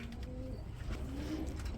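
A domestic pigeon at a pigeon market coos softly in low, rolling notes, heard close over a steady background hum.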